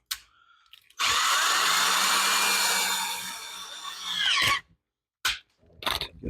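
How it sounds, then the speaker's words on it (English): A power drill fitted with a center drill bores a starting hole, whining steadily for about three and a half seconds, winding down, then giving two short bursts after a pause; the sound is close and loud. "I'm going to use these center drills"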